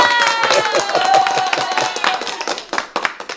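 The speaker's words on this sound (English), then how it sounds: "I'm going to give you an applause for that." A few hands clap in quick, uneven bursts close by, with a voice or tonal sound lingering underneath before the claps thin out and trail off.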